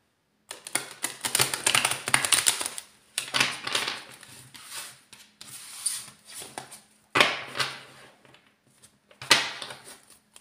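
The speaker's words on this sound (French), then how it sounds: "On va déjà mélanger le tarot." A thick deck of tarot cards being shuffled, in several close, crisp bursts of riffling and rubbing separated by short pauses, no voices.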